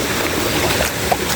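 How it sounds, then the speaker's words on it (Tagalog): Water in a shallow stream rushes and gurgles continuously, a close, steady hiss with a small splash near the end. "Malinis pa ang mga sapa dito guys"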